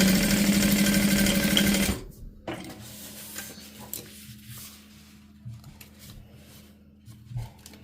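A sewing machine stitches a fabric pocket, with a loud, fast, steady whir for about two seconds. It then stops, leaving faint handling noises and light rustles.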